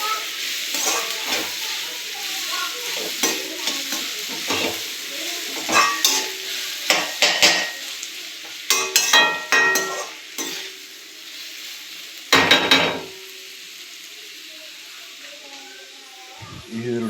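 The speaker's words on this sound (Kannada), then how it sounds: "ಈರುಳ್ಳಿ ಸ್ವಲ್ಪ ಬೇಯೋದಕ್ಕೆ ಒಂದು ಸ್ವಲ್ಪ ಉಪ್ಪು ಸೇರಿಸಿ ಚೆನ್ನಾಗಿ ಕಲಿಸ್ಕೊಳ್ತೀನಿ" Onions with salt are stirred in a frying pan, a constant hiss under repeated loud scraping and clanking strokes of a utensil against the pan, with a person talking in between.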